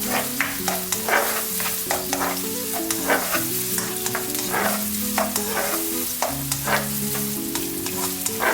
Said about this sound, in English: add my garlic. And then stir.